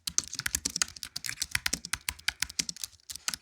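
Quick, busy typing on a computer keyboard, keys clattering in rapid irregular bursts close to the listener, with no talking.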